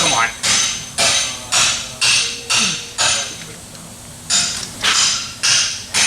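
A hand wrench ratchets against a bolt on a Toyota 2ZZ-GE engine, giving a steady run of close, sharp metallic clicks in regular bursts, then a short pause and a few more.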